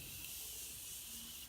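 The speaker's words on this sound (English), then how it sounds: "Oh, I love this spray." A fine setting-mist spray bottle releases a continuous soft hiss of very fine mist, close and steady for a moment.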